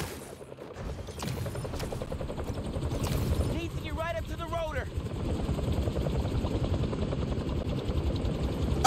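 A helicopter's rotor thrums steadily under game noise in Marvel's Spider-Man 2, with bursts of gunfire and a short electronic warble midway.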